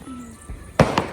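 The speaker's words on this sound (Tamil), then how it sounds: "பட்டாசு வெடிக்க ஆரம்பிச்சிட்டாங்க" Firecrackers bursting at a temple festival: a couple of sharp, loud bangs close together near the end, preceded by a softer thump, in an outdoor setting with no talk.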